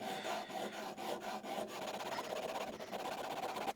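Cross grain nicker blade rubbed back and forth on a sharpening stone, close and fairly quiet, giving a steady gritty scraping in short repeated strokes with no talking.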